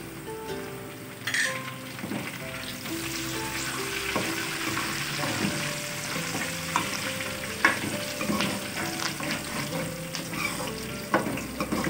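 Curry leaves hit hot oil for a yogurt potato curry, setting off a loud, crackling sizzle with scattered pops and stirring clatter that continues steadily with no voices.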